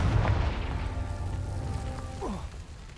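The Confringo explosion spell in Hogwarts Legacy sounds as a deep, rumbling boom at the start, followed by a fading low roar and a short descending magical whoosh near the end.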